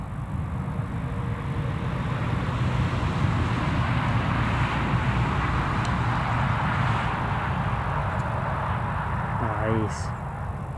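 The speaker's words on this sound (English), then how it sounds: "Get a little bit of a close up here, just while it taxis down to the runway." Aircraft taxiing toward the runway at Newcastle Airport, a continuous broad engine rumble and roar at a moderate distance, steady throughout with faint outdoor background noise.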